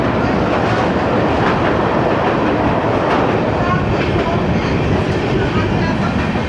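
A special passenger train running from Mizoram to Kolkata through tunnels and over bridges, with a loud, steady rumble and rattle of wheels on rails that fills the whole stretch without a break.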